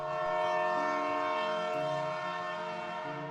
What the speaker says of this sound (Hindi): कि तभी ट्रेन के हॉर्न की आवाज आई।